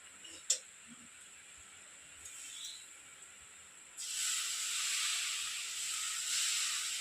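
Water sprinkled over semolina cooking in a pan for sweet suji halwa with cardamom, a small clatter then a sudden loud steady hiss that bursts up and carries on, close by.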